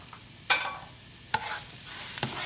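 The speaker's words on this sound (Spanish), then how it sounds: "Ya que tenemos le vamos a poner los tres ajos." Three garlic cloves dropped into a hot pan, where oil sizzles with a bright hiss and a few sharp clatters and spatters, close up and alone.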